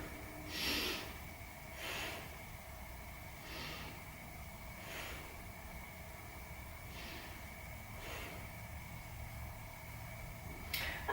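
Slow, steady breaths, nasal inhales and exhales, come at even intervals of about one to two seconds while a yoga pose is held. The sound is quiet and close against a soft background hum, with no talking.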